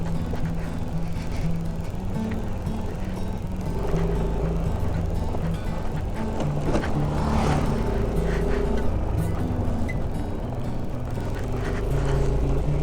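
A Yamaha NMAX scooter jolts along a rough, rocky, pothole-filled road, its steady engine drone mixed with continuous rattling and bumping from the stiff suspension, loud and close with no talk.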